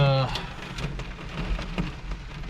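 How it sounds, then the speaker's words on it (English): Heavy rain pours down steadily at an excavation and mulching job site, a dense continuous hiss with a brief low tone at the start and no talking. "Now it just started pouring down rain"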